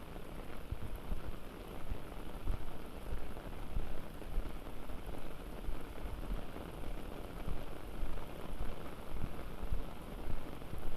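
Heavy rain in Laos pours down steadily, a dense, constant hiss and patter on surfaces that stays loud and unbroken throughout, with no voices.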